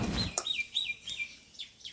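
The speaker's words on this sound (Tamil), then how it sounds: "கூட்டுக்குள்ள எத்தனை குருவி இருக்குன்னு பாரு." Small caged sparrows chirp in a quick run of short, high, downward-sweeping tweets, fairly close and alone, with a brief sharper clatter near the start.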